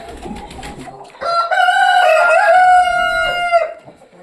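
A rooster crows loudly and close, one long harmonic call after a stretch of softer clucking from hens in a flock.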